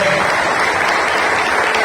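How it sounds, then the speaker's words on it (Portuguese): Church congregation applauding together during a Lord's Supper service, a loud, steady wash of clapping that fills the whole moment with no voices over it. "vamos aplaudir o Rei da Glória"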